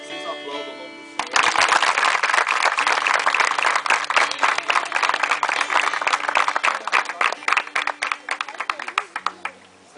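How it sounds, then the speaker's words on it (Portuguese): A church congregation at a water baptism breaks into clapping, starting abruptly after a musical tone and building into loud, uneven claps that thin out toward the end, with voices mixed in. "Vocês aplaudam o nome do Senhor."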